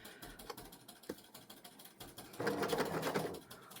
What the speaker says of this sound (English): So let me take you to my sewing machine.